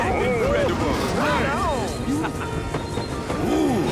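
A train pulls in within an animated show, with rising and falling squeals of wheels and brakes sliding over a rumbling roll, loud and close, while voices sound over it.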